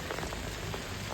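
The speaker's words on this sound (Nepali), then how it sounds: "यस्तो पानी पर्दैछ हेर्नु न साथीहरू" Rain falling steadily and densely on surfaces, a close hiss of patter with no voices, heard only for about a second.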